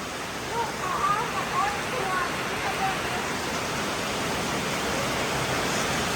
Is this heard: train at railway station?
no